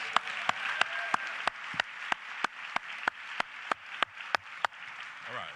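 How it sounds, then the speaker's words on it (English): At an economic development gathering in Chicago, an audience applauds in a birthday tribute, producing a quick, fairly regular run of distinct claps over a soft background wash, close and moderately loud. "But at least we can give her a round of applause."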